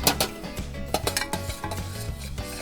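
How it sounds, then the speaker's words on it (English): A spoon scrapes and clinks around a pan of caramel sauce laced with Grand Marnier, with repeated close metallic strokes and a soft background sizzle, no talking. "Give it a good stir."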